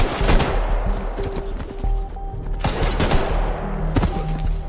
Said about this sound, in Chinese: 銃声が聞こえたか？